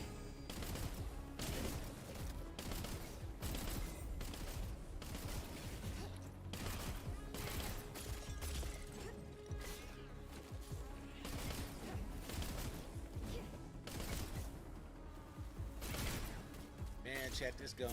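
Rapid, repeated gunfire from a powerful weapon in the video game Wayfinder pounds steadily throughout, a dense string of close, loud shots over continuous game noise.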